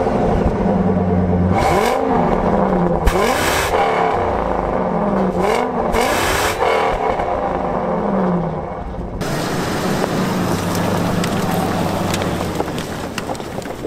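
A Volkswagen Touareg SUV with a diesel V10 revs hard several times in quick rising-and-falling surges, loud and close, then settles into a steady broad roar with wind-like rush.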